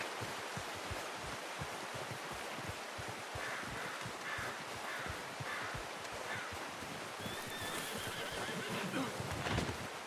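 A horse whinnies and snorts in Red Dead Redemption 2 amid soft hoof clip-clop and rustling outdoor ambience, fairly quiet, with a brief louder burst near the end.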